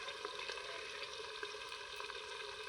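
Ginger paste sizzles and fries in a pan with occasional stirring, a faint continuous crackle while cooking a chicken gravy.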